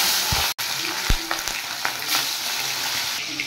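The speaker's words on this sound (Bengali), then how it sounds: "তাহলে আমি প্রথমে ইলিশ মাছের মাথাগুলো ভেজে নিই।" Hilsa fish heads fry in hot oil, a loud close sizzle with crackling spits and a few clunks of the pan, steady for a few seconds with no voices.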